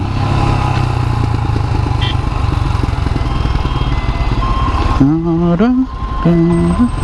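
A Royal Enfield Himalayan motorcycle filtering through busy traffic, its engine droning steadily up close beneath heavy traffic noise, with a few short horn or beep tones from nearby vehicles toward the end.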